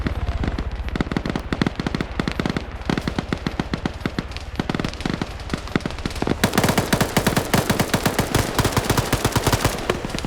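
Gunfire from a multiplayer war video game match: a constant stream of sharp shots and rapid bursts, loud and close, growing denser and more relentless toward the end, with no talk over it.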